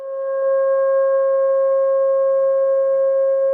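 A steady pure sine tone at 540 hertz, sounded as the tone for a pentagon in a geometric shapes-to-frequencies demonstration, holding loud and unchanging on its own for several seconds.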